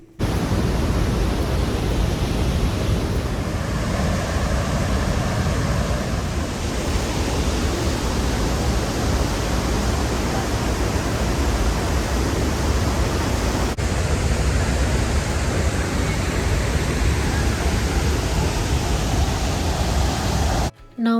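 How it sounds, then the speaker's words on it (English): Athirapally waterfall in Kerala roaring as a loud, steady broadband rush of falling water, continuous and close throughout with no voices. "Now just chill and see the spectacular view of the waterfall and listen to the loud sound of the water."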